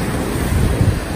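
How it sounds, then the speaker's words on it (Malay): Big ocean waves give a continuous heavy rumble and wash, buffeted by wind noise against the microphone, loud and unbroken with no voices. "Oi, besar ombak."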